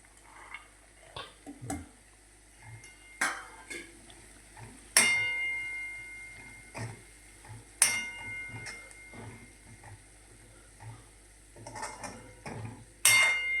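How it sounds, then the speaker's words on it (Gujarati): Pigeon peas tipped into a pan of cabbage curry: scattered clinks and scrapes of a spoon against metal, with a few sharper knocks standing out over quiet background. "હવે તુવરના દાણા નાખી દો"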